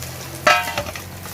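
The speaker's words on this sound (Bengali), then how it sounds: "মাছ ভেজে নিলাম, কপি দিয়ে রান্না করব" Silver carp pieces frying in oil in a pan, a brief burst of sizzling and a stirring clatter around the middle, fairly close and short, with no talking.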